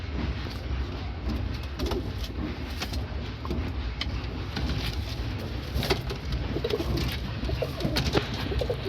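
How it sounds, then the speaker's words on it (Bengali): Pet pigeons cooing in a crowded loft, a dense continuous chorus of overlapping coos and flutters close by, loud and steady without talk. "আগে পায়রা পছন্দ হবে, তারপর নিয়ে আর কত পরে হবে।"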